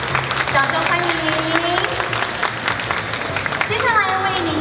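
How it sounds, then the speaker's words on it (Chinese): An audience applauds at the opening press conference of the Taiwan Excellence exhibition in Kaohsiung, a steady wash of clapping that runs under a voice speaking over a loudspeaker. "掌声欢迎。"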